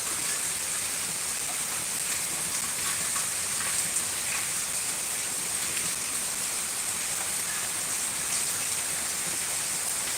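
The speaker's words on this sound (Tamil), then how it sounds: "வர வர மழை கூட்டிகிட்டே தான் போகுது தவிர கம்மியாகிற பாடு காணும்" Heavy rain pours down in a constant, dense hiss that stays loud and unbroken throughout, with no voices heard.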